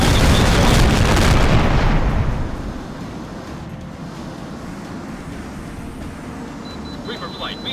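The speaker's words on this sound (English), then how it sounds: "Bomb released." A heavy bomb blast in a flight combat game, a loud booming roar for the first two seconds that settles into a steady rumbling drone, with faint higher tones late on.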